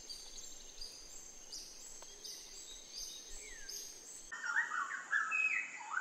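Birds call in a Sumatran forest, with high chirps and whistled notes repeating over a soft background hiss, growing busier and brighter toward the end.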